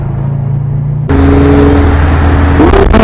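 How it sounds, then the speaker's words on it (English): A Range Rover's engine fires up inside a garage about a second in, then settles into a loud, steady idle with a brief rise in revs near the end. "Let's move this Range Rover."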